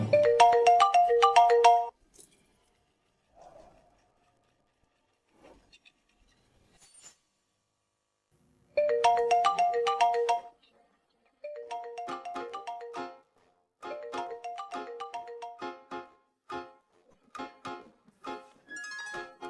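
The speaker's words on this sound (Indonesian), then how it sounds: "Bos, saya mau angkat telepon dulu" A phone ringtone plays in loud melodic bursts, a ringing phrase, a pause, then repeated tuneful rings with short gaps, with no talking over it.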